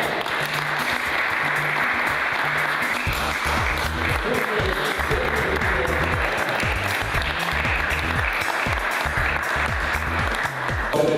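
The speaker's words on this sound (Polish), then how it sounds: "Wielkie brawa." Audience applause at the finale of a local newspaper's plebiscite awards in Tarnobrzeg, a dense, sustained crowd clapping that fills the room, with a low rhythmic musical pulse running underneath.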